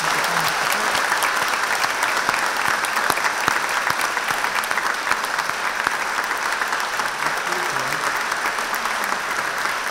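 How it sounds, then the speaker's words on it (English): Sustained, loud applause from an audience at an honorary doctorate conferment ceremony, an even wash of clapping lasting about ten seconds with no voices heard over it. "Dr. Grace Rossmann, and Dr. Avi Vigdeson, a terrific round of applause."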